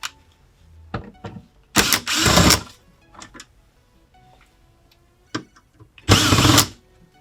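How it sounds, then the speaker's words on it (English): A power screwdriver removes screws from a factory amplifier in a 2019 Ford Flex, with two loud whirring bursts of about a second each separated by quieter clicks and handling noises close by. "Amplifier comes out with a couple of screws"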